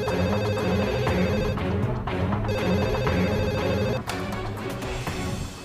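A telephone ringing loudly and continuously, with repeating electronic bell bursts broken by a brief pause, no voices.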